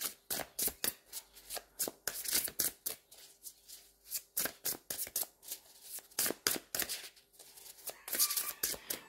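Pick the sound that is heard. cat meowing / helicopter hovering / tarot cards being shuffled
tarot cards being shuffled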